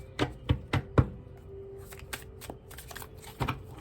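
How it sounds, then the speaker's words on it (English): Tarot cards are shuffled in several crisp riffling bursts, a quick rhythmic series of snaps, then quieter rustling and a few more flicks. "One more shuffle."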